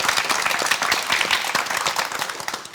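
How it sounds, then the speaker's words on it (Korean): Dense, lively audience applause on a Korean television program fills the whole stretch with rapid, continuous clapping and no voices. "여러분 다시 한번 큰 박수 부탁드리겠습니다"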